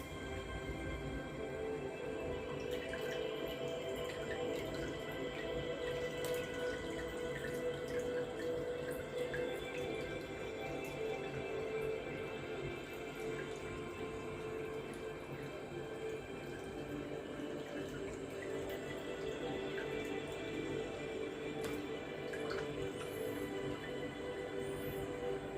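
Water poured from a bottle into small aquarium tanks, a steady continuous splash and gurgle that runs evenly throughout at moderate level.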